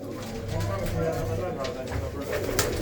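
Pigeons in a loft coo in low, murmuring bursts close by, with a human voice mixed in.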